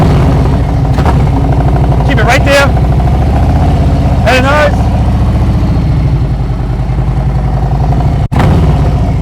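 A motorcycle engine idles with the throttle held steady during slow-speed riding practice, a loud even mid-pitched rumble that wavers slightly, while an instructor talks over it and a sharp click sounds near the end.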